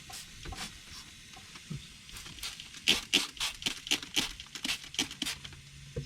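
Leak test solution fizzes and foams over a cracked boost leak on a 2003 Cummins 5.9 diesel, a quiet crackling, popping patter with irregular bursts that grow busier toward the end, no voices.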